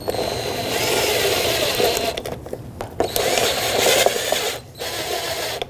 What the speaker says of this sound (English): And just start bolting it back up.